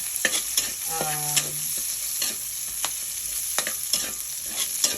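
Onions sautéing in a pan for a Filipino stir-fry of mixed vegetables with mushroom and pork, a steady loud sizzle with repeated scraping strokes of a utensil stirring, close up and no voices.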